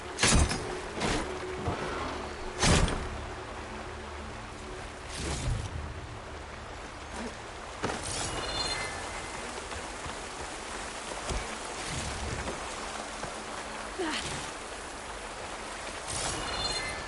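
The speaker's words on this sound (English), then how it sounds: "Rain." Steady rain hiss fills the scene in the video game Horizon Forbidden West, with occasional soft thuds and knocks over the constant patter; no voices.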